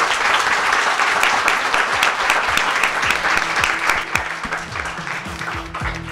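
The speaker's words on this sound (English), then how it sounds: "Let's have a round of applause for our panel" Loud, sustained audience applause fills the room for an evening panel discussion on ethical AI, many hands clapping close and continuous for several seconds with no speech over it.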